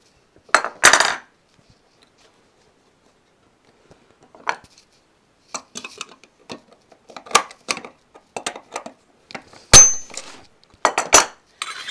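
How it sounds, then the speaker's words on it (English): Pliers twisting a stem off a kegerator keg, heard as sparse, sharp metallic clicks, scrapes and clinks in short bursts between silences, close and fairly loud, with no talk. "I can take another pair of pliers and twist it all the rest of the way off."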